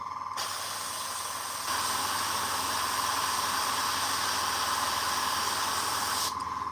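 An airbrush sprays paint onto a Warhammer miniature in a steady, close hiss lasting several seconds, swelling louder partway through before cutting off, with no talking.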